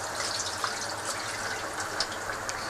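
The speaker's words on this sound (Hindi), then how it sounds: "ये पानी भी इसमें मैंने साथ में डाल दिया, थोड़ा सा मैं और डाल दूँगी इसमें पानी।" Water poured into a pot of rice for beef moti pulao, a steady close splashing and trickling fill running continuously with no talk over it.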